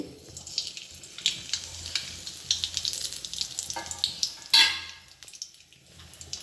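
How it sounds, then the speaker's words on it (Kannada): Mustard seeds crackle and sizzle in hot oil, the start of a village-style Karnataka bitter gourd palya, a close, uneven popping hiss with a sharper burst near the end and no talk. "ಆಯಿಲ್ ಚೆನ್ನಾಗಿ ಸ್ವಲ್ಪ ಲೈಟಾಗಿ ಬಿಸಿ ಆಗಬೇಕಲ್ವಾ, ಅದಕ್ಕೆ ಸಾಸಿವೆ ಹಾಕ್ತಾಯಿದ್ದೀನಿ."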